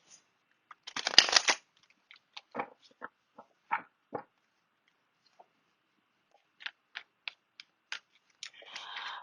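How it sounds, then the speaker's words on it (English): Tarot cards are shuffled by hand, one quick riffling burst followed by scattered soft taps and flicks of the deck, close and quiet with no talking. "My shuffling may be a little funny because of my finger situation"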